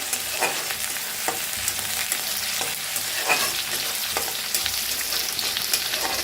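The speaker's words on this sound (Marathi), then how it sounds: "आता लसूण आणि मिरची कुटून घेतली होती ती भाजून घेऊया।" Crushed garlic and green chilli fry in hot oil, a steady close sizzle with a run of sharp scraping stirs at intervals throughout, while a spring onion dish is being prepared.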